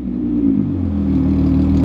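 A 12-valve VR6 car engine holds a steady, loud, deep rev at around 6,000 RPM, a throaty droning exhaust note recorded close by with no voices.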